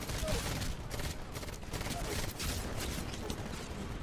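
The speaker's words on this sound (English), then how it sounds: "There's a chain gun again." A chain gun in the shooter game Titanfall rattles in a steady, fairly faint stream of rapid shots, mixed with game ambience and a voice talking over it.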